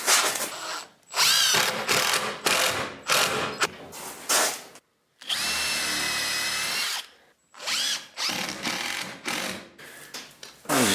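A power drill drives screws down through a vinyl-covered panel on a mini cabin camper build. Repeated bursts of motor whine with short pauses between them run close and loud, and one longer steady run sits in the middle.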